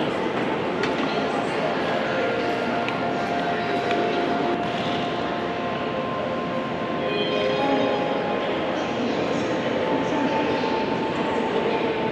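A Shenzhen Metro Line 14 train rumbles and roars steadily nearby for several seconds, with a faint high whine over the noise and voices under it.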